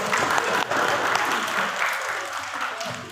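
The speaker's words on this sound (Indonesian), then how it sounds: "Tepuk tangan untuk saya." An audience at a motivational talk bursts into close, full applause that stays dense and steady throughout, with a brief dip early on.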